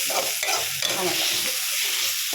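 Dried fish and Kashmiri chili powder stirred as they fry in a pan, giving a continuous close sizzle broken by rhythmic scraping and stirring strokes, with no voices.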